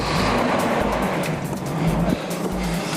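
Cars accelerate hard and speed away, a steady loud engine roar with tire noise throughout, no voices.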